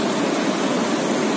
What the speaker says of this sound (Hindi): पानी का फ्लो देखो कितना तेज है